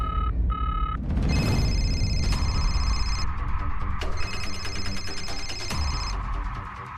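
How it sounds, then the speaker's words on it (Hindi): A telephone rings in repeated bursts of loud electronic trilling, with a short beeping tone at the start, heard in a Hindi television drama scene with music underneath. "किसी का फोन आ रहा है।"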